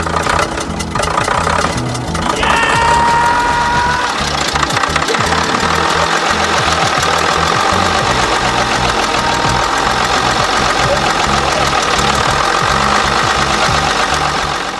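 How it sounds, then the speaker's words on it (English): A Routemaster bus, RM843, with its engine running steadily and loudly throughout, a continuous rough, knocking mechanical rumble without a break. "we actually managed to get the engine going after 14 attempts"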